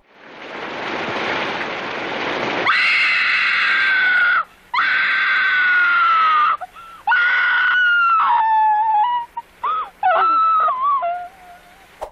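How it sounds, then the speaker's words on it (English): A woman in a movie lets out a long, loud, high-pitched scream after a few seconds of rushing noise, then breaks into shorter wavering shrieks and gasps. "She's got a good scream."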